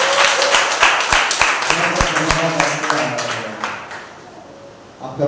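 Congregation at a Sunday church service breaking into a burst of loud, scattered clapping that thins and fades over a few seconds, with voices mixed in.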